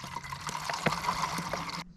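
Water trickling and pouring into a pot for a backpacking alcohol camp stove, a close, lightly splashing stream with small bubbling pulses, heard alone for about two seconds before cutting off.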